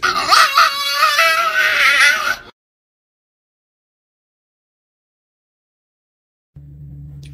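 Dog barking and howling loudly and close for about two and a half seconds in a home, then dead silence, then a low hum near the end.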